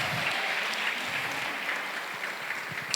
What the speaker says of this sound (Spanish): ¿Por qué no un aplauso a Dios?